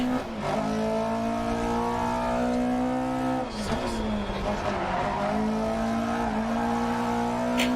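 A low-power, lightweight rally car in DiRT Rally 2.0 driven flat out, engine howling and shifting pitch as tyres squeal and skid through slides, loud and continuous.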